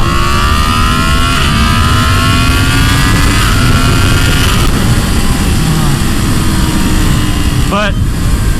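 A Yamaha MT-10 motorcycle with a flashed ECU pulls hard at full throttle in second gear, its engine note loud and close, climbing steadily in pitch for several seconds before a quick shift near the end.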